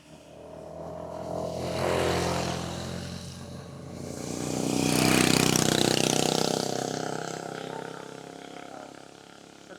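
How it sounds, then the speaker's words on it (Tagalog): A motorcycle on a hiking trail approaches from below, its engine swelling to a loud roar at mid-passage before slowly fading away. "Pagdaan ng motor."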